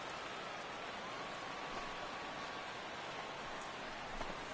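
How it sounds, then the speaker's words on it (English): Steady rain falls over a baseball stadium in the video game MLB The Show 16, a constant broadband hiss of drops spread evenly across the whole stretch, with no talk over it. "The rain, as we've mentioned, coming down fairly steadily here at game time."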